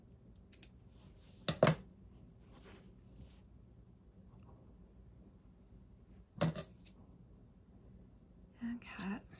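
Scissors snip through fabric in a few brief, sharp cuts spaced several seconds apart, close and fairly quiet, with soft talk in between.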